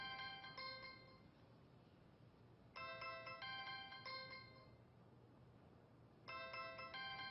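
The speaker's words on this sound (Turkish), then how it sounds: "Telefon çalıyor." A phone rings with a repeating electronic melodic ringtone, three bursts separated by short pauses, fairly quiet and without talk.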